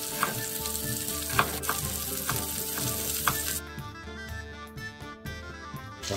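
Meat sizzling in a hot pan for a quick Chinese-style dinner, a steady crackling fry with occasional sharp pops and stirring clatter, close and even, the hiss thinning partway through while utensil knocks continue; no voices.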